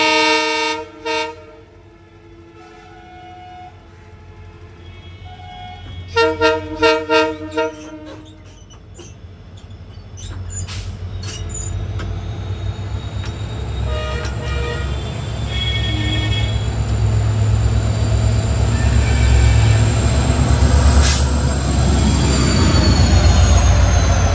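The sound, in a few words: diesel locomotive passing with horn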